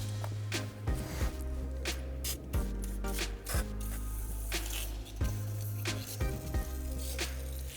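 Brake cleaner is sprayed in short, loud, close hissing bursts onto engine parts of an Alfa Romeo MiTo QV 1.4 MultiAir during a rocker cover gasket change, with a low steady hum underneath.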